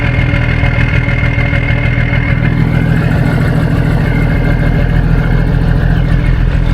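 Cummins diesel engine of a 1971 Mack RL700L long-hood truck idling, a loud, steady, close low rumble with an even throb throughout and no talking.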